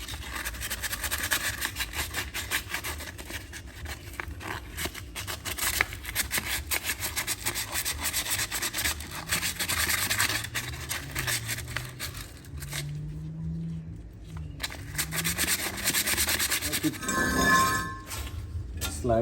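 Steady, close scrubbing and rubbing goes on throughout while a Toyota Highlander brake hub is cleaned, with a few faint metallic clinks near the end.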